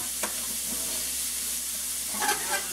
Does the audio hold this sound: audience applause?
no